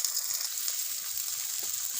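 Onions dropped into hot oil with melted sugar for a chicken dish, giving a steady, bright sizzle that fills the moment on its own, fairly close and even.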